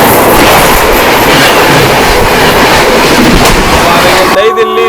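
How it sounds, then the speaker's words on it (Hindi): Dibrugarh Rajdhani express train overtaking on the line, a loud close roar of rushing wheels and carriages with steady clickety-clack that cuts off abruptly near the end. "अब इस हमारे पीछे आ रही है डिब्रूगढ़ राजधानी भाई, वो भी ओवरटेक यहीं पर करने वाली है"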